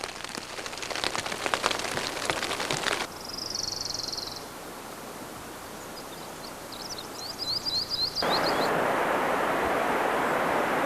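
Pouring morning rain in spring forest country near a creek and old logging road, a steady broadband hiss of drops on surfaces that thins midway, with faint bird chirps, then returns loud and dense.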